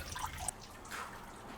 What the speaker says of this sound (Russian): запустили двигатель и увидели, что сбоку из трещины пошла вода наружу